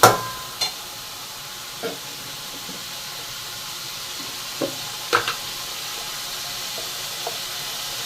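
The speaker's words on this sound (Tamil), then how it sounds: "நல்லா வதங்கட்டும்" A pan of curry base, for a kofta-style gravy, sautéing at a soft, steady sizzle, punctuated by a handful of sharp clinks and scrapes from stirring.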